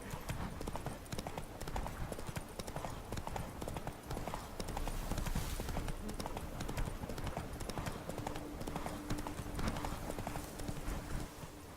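Roach, Geralt's horse in The Witcher 3, gallops in a fast, steady run of hoofbeats that continues throughout over game ambience.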